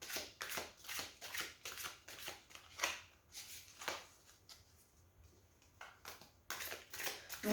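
Oracle cards drawn from a deck and handled, with soft, repeated papery shuffling and flicking strokes in an uneven rhythm, close and quiet, with no voice.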